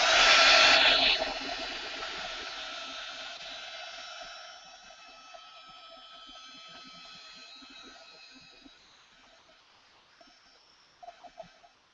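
A hair dryer blows on a painted art journal page, loud and steady at first, then weakening into a softer whir that fades out, with faint handling clicks near the end.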